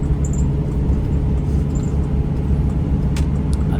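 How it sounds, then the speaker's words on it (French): A truck engine rumbles loudly and steadily from inside the cab while overtaking, a dense low drone with faint higher whines and clicks. "Bon, je dépasse avec un camion, hein."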